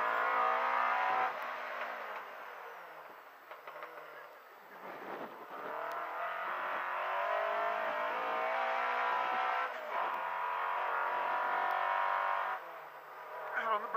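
An MG race car at an MG Car Club hill climb, its engine droning close and loud for the whole run, easing off briefly for a corner and then pulling again with a steady revving tone.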